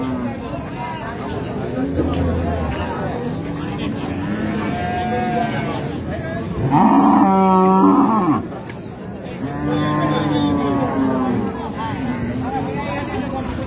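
A dairy cow at a cattle market lets out long, loud moos, one strong bellow in the middle standing out over the crowd, while people talk nearby throughout.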